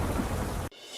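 Heavy rain in Surat roars in a dense, loud wash that suddenly cuts out after most of a second, leaving quieter hiss.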